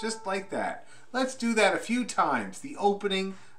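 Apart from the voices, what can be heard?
No everyday noises stand out.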